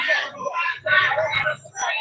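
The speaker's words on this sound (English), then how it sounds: "You hear him yelling." A man yells loudly among a crowd gathered at the top of courthouse steps, his shouts coming in repeated bursts over a busy background of overlapping voices.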